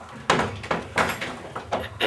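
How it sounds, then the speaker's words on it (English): A household door being pushed closed, with several close knocks and thumps at irregular intervals as it is handled and shut, moderately loud, with no speech. "Let me close this door."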